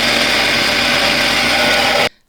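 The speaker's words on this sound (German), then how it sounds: "Und dann mixe natürlich das Gemüse klein." A powerful kitchen blender chops a batch of vegetables for homemade vegetable broth powder, a loud steady whirring roar close by that runs continuously and then cuts off abruptly at the end.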